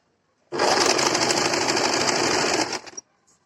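A sewing machine stitches kurti fabric in a single loud, close burst of about two and a half seconds, an even rapid whir starting and stopping abruptly, with a small click after.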